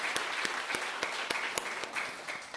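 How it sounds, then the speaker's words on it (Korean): A church congregation claps for the teachers and children during a Sunday morning service, with sparse individual claps rising out of the room in an uneven rhythm, moderately loud and close. "우리 선생님들과 아이들 위해서 박수 한 번 더."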